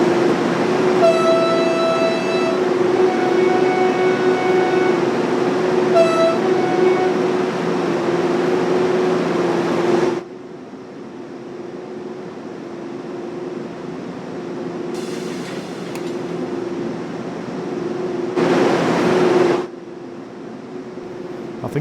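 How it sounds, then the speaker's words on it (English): BR 182 Dispolok electric locomotive running in Train Sim World 3, a steady loud tonal hum and rolling drone with horn-like tones early on and brief bursts of added noise later, no talking. "This is one of the fastest electric locomotives, the fastest, did he say, in the world."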